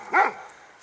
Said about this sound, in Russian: Собака тявкает.